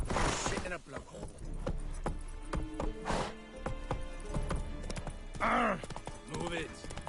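Roach, a horse in The Witcher, trots with a run of crisp clip-clopping hoofbeats up close, joined by a brief tonal cry near the end.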